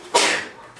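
A single short, sharp sneeze, close and fairly loud, fading quickly.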